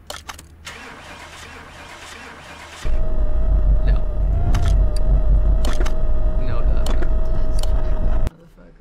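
Engine of a car in Car Mechanic Simulator 2018 starting and running loud and steady for about five seconds, then cutting off, with a quieter mechanical background before it and occasional short clicks on top.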